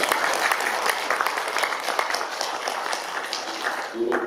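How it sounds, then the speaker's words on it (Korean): A church congregation applauds during a Sunday worship service, with dense, sustained clapping close by that continues for several seconds and then thins out, while a voice speaks over it. "우리 다시 한번 박수 한번 해."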